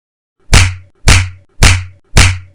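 Four sharp face slaps land at an even rhythm about half a second apart, each a loud, close, crisp smack with a quick decay, and no voices in between.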